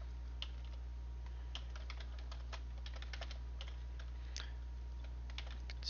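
Quiet, irregular computer-keyboard typing, soft clicks in uneven bursts over a steady low hum, no voices.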